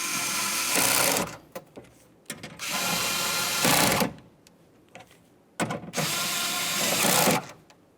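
Ratchet or power driver snugging window regulator bolts inside the door of a 2004-2015 Nissan Titan, running in three sustained mechanical whirring bursts separated by short gaps, close and fairly loud.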